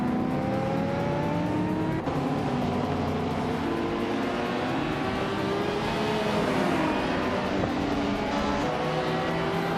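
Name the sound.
race cars including Mazda RX-7 and Alfa Romeo 75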